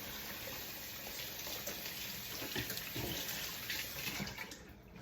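Tap water runs steadily into a sink, a soft, continuous rushing that stays faint and even throughout.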